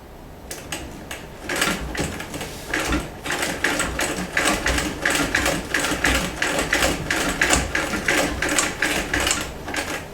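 A vintage Singer 206K sewing machine stitches zigzag on denim, a rapid, steady mechanical clatter of needle strokes that starts slowly, then settles into an even, close, loud rhythm.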